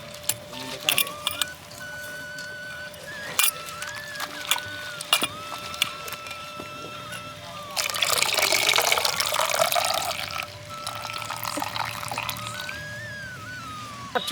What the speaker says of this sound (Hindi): अब एक काट के धो देते हैं आ धो के तब निकाल लेते हैं।